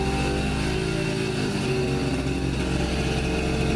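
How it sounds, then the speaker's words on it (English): A small scooter engine runs steadily, a buzzing low drone with a constant harmonic hum and slight pitch shifts, close and continuous, with no talk. "This little scooter's taking its place for a little bit"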